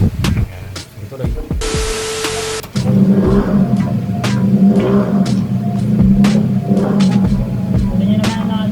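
A Mio 4 motorcycle in a classic GP-style build, freshly assembled, revs loudly and steadily up close in a repeated rising-and-falling rhythm, after a brief burst of hiss near the start.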